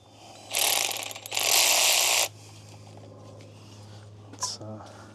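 A ratchet tightens intake ducting on a Toyota/Lexus 2UZ-FE 4.7L V8 engine, giving two loud, fast clicking bursts followed by quieter handling noises with a low hum beneath.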